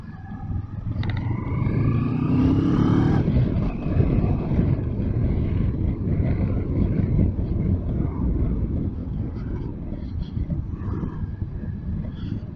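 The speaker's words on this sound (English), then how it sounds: "You got a lovely purr from this twin engine." A 2021 CF Moto MT650 twin-engine motorcycle on the road, its steady low engine hum running continuously under heavy wind rush, with a rising tone early on as it pulls away.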